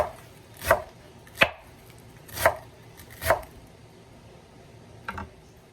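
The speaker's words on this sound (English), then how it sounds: "start chopping again" A knife chops parsley on a cutting board in five sharp, separate strikes, spaced roughly a second apart, close and clear with no talking.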